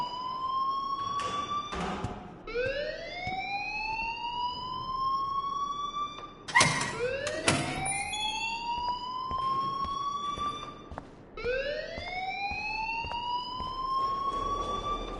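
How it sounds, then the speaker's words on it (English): An alarm wails inside the Life is Strange video game, a loud rising siren-like tone sweeping upward in repeated cycles with brief sharp clatters between sweeps, steady and close throughout. "please turn off that alarm since that's your job"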